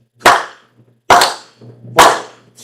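A church congregation at a Sunday service claps in rhythm, three sharp, loud claps at an even, unhurried pace, each ringing briefly in the room, with nobody speaking.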